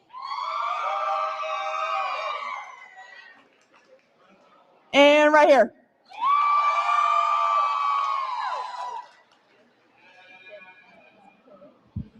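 A crowd at a sheep show cheers and whoops loudly for a favorite costume in two long sustained bursts, with a brief loud announcer's voice between them and a fainter cheer trailing off at the end.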